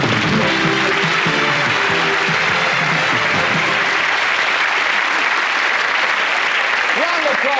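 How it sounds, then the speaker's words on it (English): Studio audience applause on a 1992 game show, loud sustained clapping filling the space with a crowd feel, and a voice briefly audible over it near the start. "round of applause"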